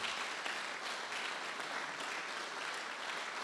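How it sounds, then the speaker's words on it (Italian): Warm applause from an audience at a social-week conference in Vittorio Veneto, thanking the speakers; steady, fairly faint and distant clapping with no voices. "Io direi di rivolgere ancora un caloroso applauso ai nostri"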